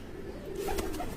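Pigeons coo softly in their coops, a short low murmur of calls over a faint background hum.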